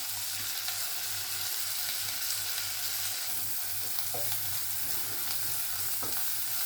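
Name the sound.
chopped onion sautéing in a pan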